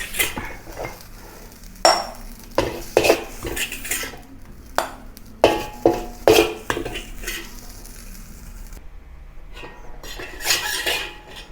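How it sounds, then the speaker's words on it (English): A metal spatula scrapes and clanks against a wok as basil fried rice is scooped out. The irregular series of sharp knocks and scrapes is close, with a light sizzle underneath and no talking. "Now remove the rice from the wok."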